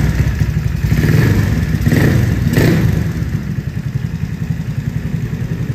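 A Yamaha Mio motorcycle engine fitted with a new oil cooler runs close by, a loud buzzing, clattery drone that swells with a couple of revs early on, then settles to a steady idle.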